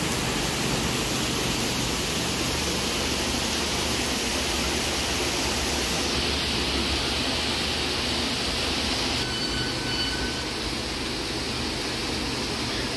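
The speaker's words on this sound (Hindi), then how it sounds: "अचानक से इतना बारिश हो गया।" Heavy, sudden rain pouring down outside a home, a steady dense hiss of falling water that holds constant throughout with no voices.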